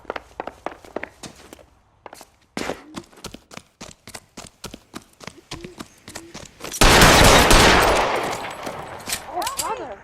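Gunfire in the video game L.A. Noire: a rapid string of sharp, close shots in uneven bursts, then a sustained loud roaring barrage, with brief shouts near the end.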